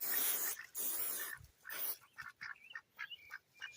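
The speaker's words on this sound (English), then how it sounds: "Duck." A duck quacks in several short bursts, first loud and rough, then a series of quicker, fainter calls trailing off, heard alone without talk.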